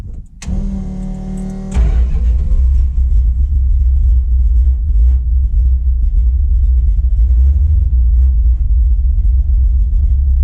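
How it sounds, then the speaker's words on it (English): A drag-tuned 1969 Plymouth Roadrunner V8, an 11-second car with a reverse manual valve body, cranks briefly with a starter whine, then catches and settles into a loud, steady, lumpy idle, close up with no talking. "Not bad, it idles nice for an 11-second car."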